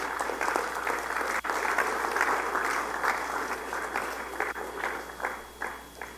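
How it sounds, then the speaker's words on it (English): An audience at a youth congress gives a round of applause: thick, continuous clapping from many hands, with a few sharper claps standing out near the end. "Give yourselves a round of applause for being in that generation."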